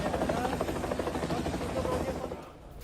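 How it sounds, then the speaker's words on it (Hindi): A helicopter hovers during a flood rescue in Nepal, its rapid rotor chop pulsing loud and near for nearly three seconds before easing slightly at the end. "हेलीकॉप्टर के जरिए ही बहुत मुश्किल से कैसे उसे रेस्क्यू किया गया"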